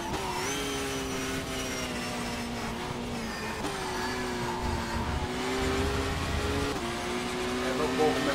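Race car engine in a racing video game on a fast lap, a continuous buzzing whine that rises through the gears and dips at each shift, several upshifts in sequence, with a voice talking over it.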